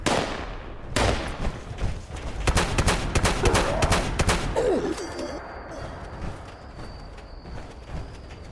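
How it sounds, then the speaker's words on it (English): Gunfire in the video game Fallout 76: a burst of sharp, loud shots in quick succession for a few seconds, then fading into quieter ambient game sound with a faint tone. "Hey, who's shooting now?"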